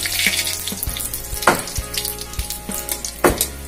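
Panch phoron spices, two dried red chillies and a bay leaf crackle in hot oil, with a steady close sizzle broken by a few sharp spoon or pan knocks and bursts of spitting.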